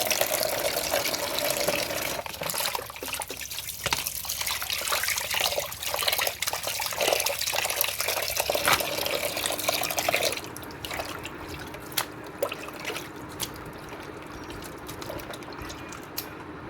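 Water runs and splashes while taro (kochu) is rinsed clean for a Bengali chicken curry, a steady close wash with drips that thins to a quieter trickle partway through.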